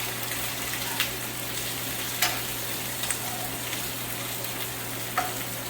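Chicken 65 mixture with garlic sizzles and fries in a pan under a dense, steady crackle, with a few brief scraping knocks of a stirring spoon breaking through at intervals.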